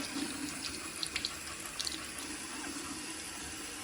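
Warm water running steadily from a tap into a sink, a continuous hissing splash at moderate level with a few brief clinks over it.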